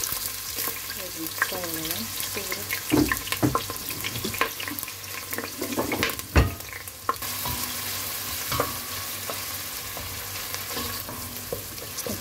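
Chopped onions sizzle in oil in a pot for borscht, with a steady frying hiss broken by repeated stirring scrapes and clinks, plus one sharp knock partway through.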